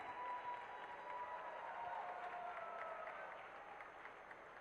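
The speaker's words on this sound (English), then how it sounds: "give each of them a round of applause as we bring them up to stage" Audience applause for cosplay winners being brought on stage at a gaming convention, continuous, fairly distant clapping with a faint crowd murmur and a few whistled or cheering tones.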